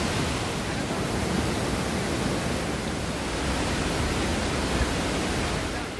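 Water pours over a dam on the Panniyar river as a monsoon waterfall, a steady, broad roaring rush that stays loud and unchanging throughout, with no voices.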